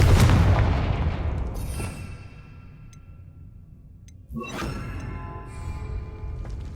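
Casting Confringo in Hogwarts Legacy at a broken lift sets off a loud booming blast that rumbles and decays over two seconds, followed by a second sharp impact with crackling debris and a lingering rumble.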